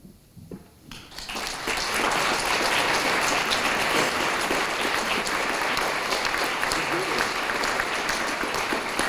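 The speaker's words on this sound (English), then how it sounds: "please stand so we can give you some applause" A university audience applauds the search team at a presidential welcome event in a hall, the clapping swelling from a few scattered claps into sustained, dense applause that fills the room.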